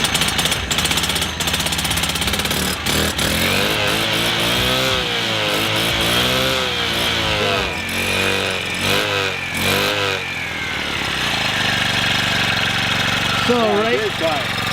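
A loud concrete saw engine idles with a rough, steady rumble, occasional revs swelling and dipping, while people talk over it.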